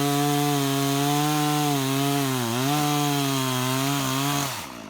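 A chainsaw bucking wood at an abandoned hunting cabin campsite, a steady loud engine drone that dips briefly under load mid-cut and then winds down at the end.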